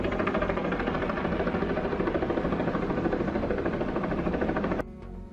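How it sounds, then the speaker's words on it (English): Steady heavy rotor drone of a helicopter over a flooded area, a loud continuous throbbing hum that cuts off near the end. "Is there a helicopter, Mishunka?"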